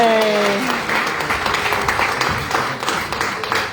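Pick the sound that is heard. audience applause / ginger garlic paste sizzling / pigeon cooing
audience applause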